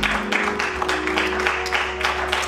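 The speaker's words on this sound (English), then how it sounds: "Come on, clap your hands." A congregation clapping hands during a Palm Sunday church service, a loud steady rhythm of many hands close by with music sounding underneath.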